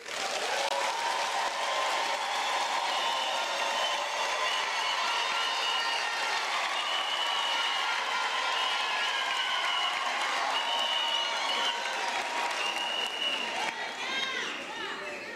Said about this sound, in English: the graduates deserve a thunderous round of applause